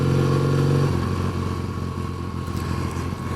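A classic motorcycle rides along the road beside Loch Ness, its engine droning steadily and close with a low mid-pitched hum throughout, a brief steadier tone fading early as the ride continues.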